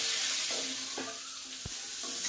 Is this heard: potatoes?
yes